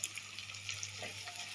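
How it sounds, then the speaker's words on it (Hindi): Onions and tomatoes fry with a steady, soft sizzle and hiss in the pan after coriander leaves are added, close and quiet, with a low hum underneath and no speech. "तो देखिए प्याज टमाटर अच्छे से भून गए हैं।"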